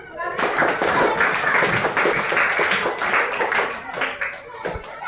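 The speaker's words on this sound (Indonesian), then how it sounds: "Ya, tepuk tangan." A primary school class bursts into lively applause, many small hands clapping in dense, uneven bursts that fade near the end, with a voice heard briefly in the mix.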